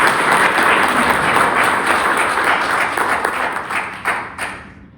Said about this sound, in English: you guys, once again, deserve another round of applause.